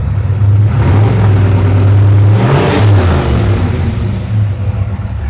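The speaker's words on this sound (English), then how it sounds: "Whenever I rev it, it does that." A Ford Mustang engine revs loudly up close, a steady low drone swelling into a rising rev near the middle before settling back, with no talking.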